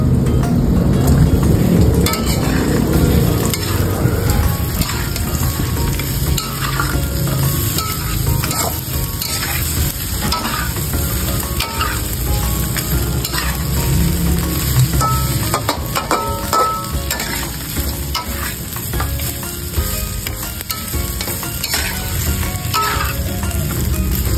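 Aromatics sauté in a hot pan with a loud, continuous sizzle and frying crackle, broken by scraping and clattering as they are stirred throughout.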